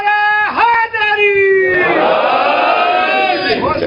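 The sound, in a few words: crowd shouting response to Naara-e-Haidari slogan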